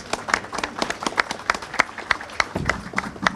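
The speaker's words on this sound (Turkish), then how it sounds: "bir alkış alabiliyorum sizlerden" An audience applauds Betül at the opening ceremony of an aesthetics academy, with scattered, quick, close-sounding hand claps in a brisk, uneven patter that lasts a few seconds.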